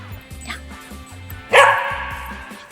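A pet dog barks with a sharp, loud bark mid-clip, after short soft yips and whimpers, while a steady low background hum continues underneath.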